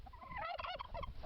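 A turkey gobbles in one quick, rattling burst of warbling notes, fairly close and clear, with no talk over it.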